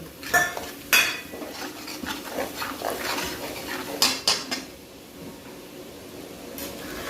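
Spices and cabbage are stirred and sautéed in a pan with a metal spoon, sharp clanks and scraping strikes against the pan over a soft sizzle, irregular and close.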